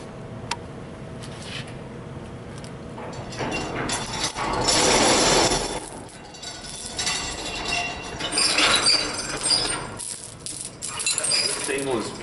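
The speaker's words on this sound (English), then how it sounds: "getting this overhead chain right up on the table so we can lift it up and out of the machine" An overhead chain is rigged to lift the heavy leveling table out of a Rottler S85A machine, producing clinking links, ratcheting and metallic rattles at close range amid low shop noise.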